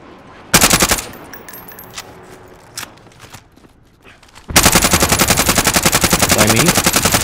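Video game gunfire: a short loud burst of automatic fire, scattered shots and footsteps in a quieter stretch, then a long sustained rattle of rapid machine-gun fire close up.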